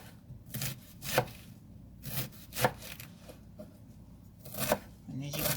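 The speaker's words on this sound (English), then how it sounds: "I have 1 small cabbage that I have taken the core out of it, and I am just chopping it up." Knife chopping a small cored cabbage on a cutting board, producing irregular crisp thuds and crunches roughly once a second, close by, with a person talking between cuts.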